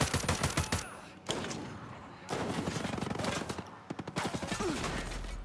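Rapid bursts of automatic gunfire in the military shooter Ghost Recon Breakpoint, loud and close, in dense rattling volleys broken by brief pauses, with sharper single shots mixed in.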